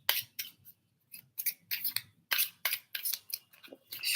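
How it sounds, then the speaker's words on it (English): Tarot cards being shuffled by hand, a quick run of crisp, close papery flicks and riffles in short irregular bursts, with no talking. "I'm going to shuffle."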